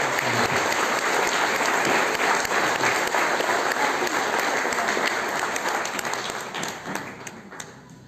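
Sustained applause from an audience at a Spanish-language book presentation ceremony, dense and steady for several seconds before gradually thinning toward the end.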